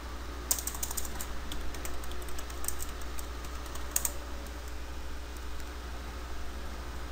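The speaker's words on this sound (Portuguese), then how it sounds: "Eu digito minha senha. Digito minha senha aqui" Typing a password on a computer keyboard, a quick run of light, close key clicks in irregular bursts over a steady low hum.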